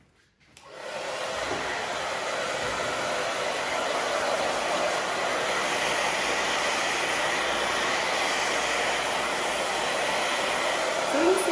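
A hair dryer blows steadily on a freshly cut undercut bob in a salon. After a brief start it holds a loud, continuous rushing roar for about eleven seconds, with no one talking.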